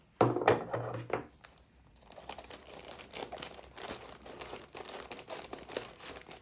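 Plastic greenhouse sheeting crinkles and rustles close up as it is handled and cut, a loud burst of crackling at first followed by steadier softer crinkling.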